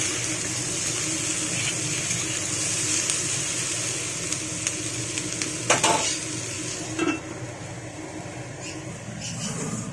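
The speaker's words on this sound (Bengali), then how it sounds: "শুধু একটু নাড়াচাড়া করে করে ঢাকা দিয়ে আমি ভেজে নেব।" Kudri (ivy gourd) sabji sizzles steadily in a pan while a utensil stirs it, with intermittent scrapes and a couple of louder knocks against the pan over the constant frying hiss.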